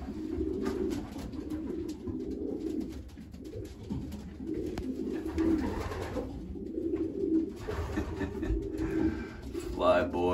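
Racing pigeons in a loft coo in repeated low, throaty phrases, close and fairly soft, with faint rustling in the background.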